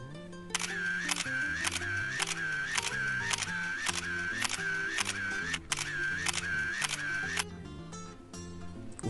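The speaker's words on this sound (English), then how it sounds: "And the answer is a camera." A camera shutter clicks about a dozen times in a steady, even rhythm. The crisp snaps sit over continuous background music.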